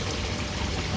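Water flows steadily through a simple homemade koi pond venturi, a soft continuous rushing and trickling with no voices.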